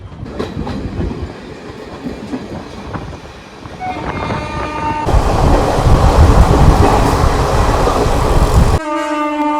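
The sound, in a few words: Teesta Torsa Express passenger train running on rails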